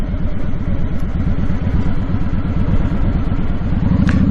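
A motorcycle engine runs steadily while riding, a loud, close, rhythmic low-pitched putter with constant wind rush over it and a brief higher click near the end.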